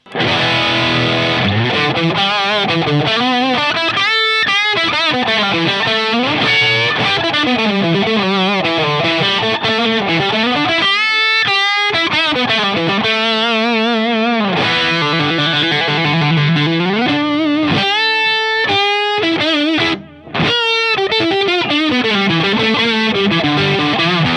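Electric guitar through a Boss SD-1 overdrive pedal with a faulty on-off switch, heavily overdriven, playing sustained, gritty chords and bending notes, loud and continuous with a brief cut near the end.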